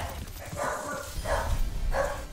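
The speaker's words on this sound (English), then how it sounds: "what you guys are listening to right now are wiener dogs that are upset" Upset dachshunds bark in three short bursts spaced about a second apart, moderately loud over a steady low background hum, with no one speaking.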